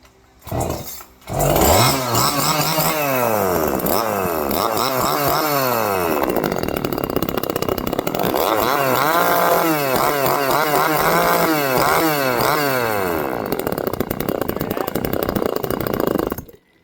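A Neotec NCS 2500 chainsaw engine, just started with the choke then switched off, runs loud and close, its pitch sweeping up and down as it is revved repeatedly, with no voices.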